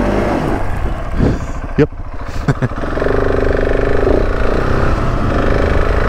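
A KTM 690 Enduro R single-cylinder dual-sport motorcycle pulls away, its engine note rising into a steady, close drone after a few brief knocks and handling sounds; someone speaks briefly.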